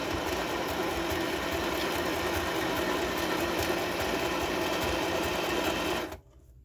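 A sewing machine runs a zigzag stitch through the paper signature of a junk journal. The motor hums steadily and close with a fast, even needle chatter for about six seconds, then stops abruptly.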